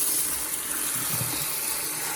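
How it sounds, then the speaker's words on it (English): Hot water runs steadily from a tap into a sink while paintbrushes are being washed, a soft, even rushing stream with no talk. "I try to run some hot water"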